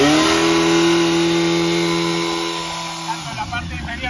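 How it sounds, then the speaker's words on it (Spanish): Yamaha FZ6 N motorcycle engine running with a steady, close, loud tone that fades and settles lower near the end. "Hemos arrancado esta Yamaha Apache 600. Podemos observar que el sonido del motor es bueno."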